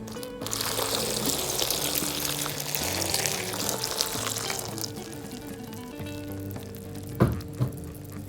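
Water pours into a hot pan of cut eggplant, hissing and sizzling steadily, then quiets to a softer simmer with a couple of clunks near the end.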